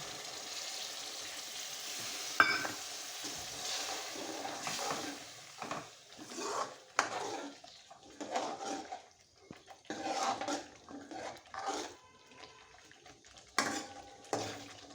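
Water poured into sautéed spice masala in a pan for paneer masala sizzles and bubbles in bursts, mixed with stirring scrapes and occasional clinks of utensils, moderately close and with no talking.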